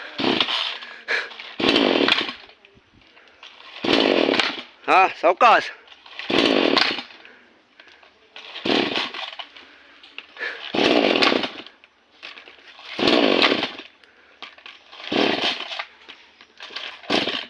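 A chainsaw cutting a coconut tree revs in repeated loud bursts with pauses between them, while people talk nearby.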